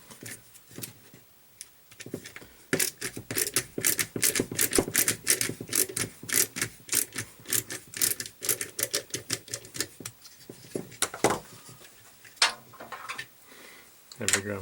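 Screwdriver backing screws out of a gardening tool battery pack, a close, busy run of rapid ratcheting clicks and small metallic ticks with short pauses between bursts.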